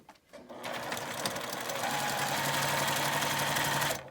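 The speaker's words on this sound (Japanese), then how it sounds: "仕切りの線も下から上に向かって縫います。" A sewing machine stitching the divider line of an eco fur tote bag, starting after a brief pause into a continuous, close whirring hum of rapid needle strokes that runs steadily before stopping.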